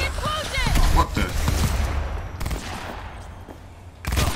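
Gunfire in Cyberpunk 2077, several sharp loud shots spread through the clip alongside in-game voices and other game sounds.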